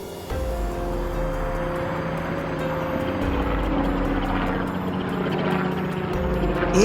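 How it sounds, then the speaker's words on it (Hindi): A cartoon robot turns into a helicopter, giving a steady, droning rotor and engine hum that holds at an even loudness throughout, with no voices over it. "तब वो वहाँ जाने के लिए एक हेलीकॉप्टर में ट्रांसफॉर्म हो जाता है।"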